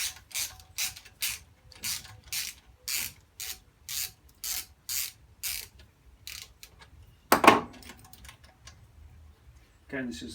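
A ratchet loosens an 8mm bolt on the carburetor of a Honda FG201 tiller. About a dozen quick, even clicking bursts sound close by, followed by a sharp clatter and a short pause.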